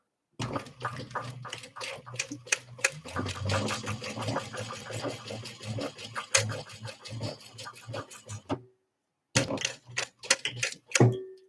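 A sewing machine stitches a back stitch on a tote bag, a fast rapid-fire chatter of needle strokes that runs for several seconds, pauses briefly, then resumes in a short burst.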